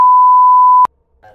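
A single loud, steady high-pitched censor bleep added in editing, held for under a second before cutting off abruptly, followed by faint low murmurs.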